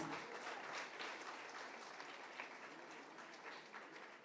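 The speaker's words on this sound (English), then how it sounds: "Good round of applause" Steady audience applause for tuberculosis survivors at a World TB Day event with the Tamil Nadu Governor, a dense even patter of many hands held at moderate level throughout, with no talk over it.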